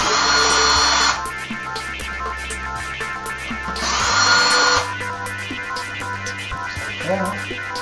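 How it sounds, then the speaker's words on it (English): A power drill whirs in two separate bursts, each about a second long, removing screws from the ice cube maker box of an Emerson ice maker, close and loud, with small clicks and handling noises in between. "So I'll go ahead and take these 2 screws out."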